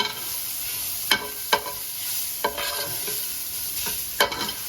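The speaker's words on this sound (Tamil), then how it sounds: "அப்புறம் உதுத்து வச்சுருக்கிற பருப்பு அதை நல்லா எண்ணெயில்" Steady sizzling of lentils frying in hot oil, with a few sharp clinks of a spoon stirring the pan, close and fairly quiet.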